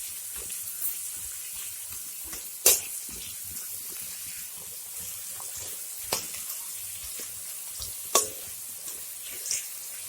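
Cloves, cardamom, cinnamon, cashews and raisins fry in a pan for fried rice, giving a soft, steady sizzle broken by a few sharp metallic clinks as a spoon stirs them.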